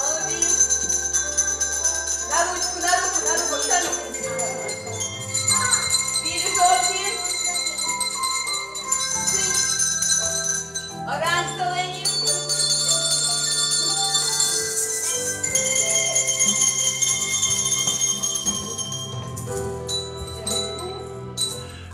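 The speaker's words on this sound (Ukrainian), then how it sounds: "А згодом організували з гостями українсько-фінський оркестр дзвоників." A Ukrainian-Finnish handbell ensemble, formed by hosts and Finnish guests, rings bright, sustained tones in a continuous melody with overlapping chimes throughout.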